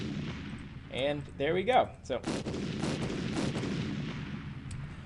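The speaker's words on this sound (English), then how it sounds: "If we lose, it should play our explosion sound." Explosion sound effect in a mouse maze video game bursts out as a loud, crackling blast with a decaying rumble, following brief speech at the start.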